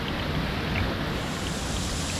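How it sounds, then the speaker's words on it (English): Water splashing in a spring-fed outdoor pool by a waterfall in Gorse, St. Vincent, a steady broadband rush with low churning, continuous and fairly close throughout. "Splashing."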